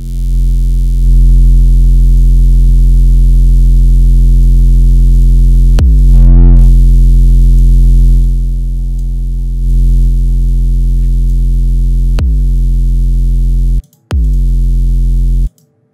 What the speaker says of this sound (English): Alright, that's a really powerful 808.